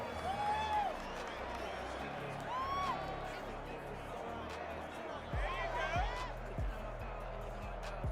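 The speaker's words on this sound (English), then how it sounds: "You're going slow clap on me." A stadium crowd in the Madden NFL 21 football video game, during a Dolphins–Steelers matchup, keeps a steady roar and then breaks into slow, evenly spaced claps, while a voice talks over it.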